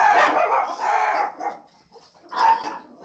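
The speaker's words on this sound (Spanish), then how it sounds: "Permítame un momentito que los perritos empezaron" Dogs bark in a few short bursts nearby, a cluster of yaps followed by a pause and another quick burst.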